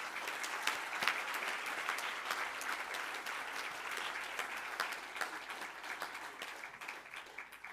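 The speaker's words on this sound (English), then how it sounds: "I think that deserves another round of applause." A crowd applauds at the 2022 NSC awards ceremony for matric learners and teachers, a sustained round of many hands clapping, moderately distant, with individual sharp claps poking through and gradually tapering toward the end.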